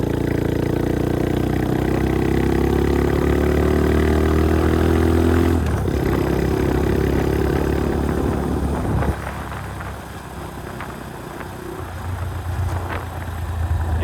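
An Icebear Champion 125cc motorcycle, a CT70 clone, runs loud and close, its engine note rising under throttle, then dipping and settling at lower revs around gear changes before picking up again.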